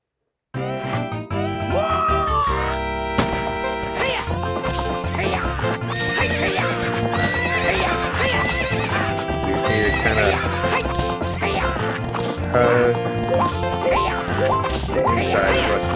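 Galloping hoofbeats and whinnying from Epona the horse in a corral race in Zelda: Ocarina of Time, steady rhythmic clip-clop over game music and effects, loud and continuous.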